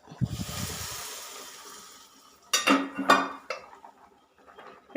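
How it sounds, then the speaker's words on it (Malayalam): Tempered mustard seeds poured from a small pan into a simmering potato curry, giving a hissing, crackling sizzle with a few metallic clinks of pan and spoon, close and fairly quiet. "അത് ഇതിലോട്ട് ഒഴിച്ചു കൊടുക്കാം."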